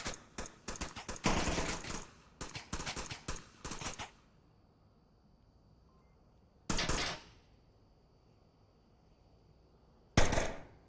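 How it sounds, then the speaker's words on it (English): Gunfire in the VR shooter game Onward: rapid bursts of automatic fire in two clusters, then two short isolated bursts after quiet gaps, loud and close. "Now the defender's shooting"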